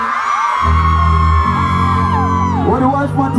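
A live concert crowd of women screams and whoops loudly and continuously in a big venue in London, the sustained roar mixed with loud music and a heavy bass drone.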